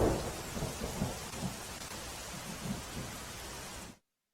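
Heavy monsoon rain in Valsad district, Gujarat, a dense loud roar of downpour with low rumbling undertones, continuous for about four seconds before cutting off abruptly.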